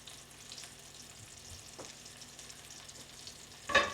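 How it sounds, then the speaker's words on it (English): Butter, foamed and melted, sizzles in a pan ready for floured steaks, a faint steady hiss with a brief louder clatter at the end. "Here our butter is all nice and sizzling."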